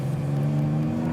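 A 2021 BMW M340i xDrive at full throttle, heard from inside as a strong steady engine drone with a prominent low tone, continuous and fairly loud.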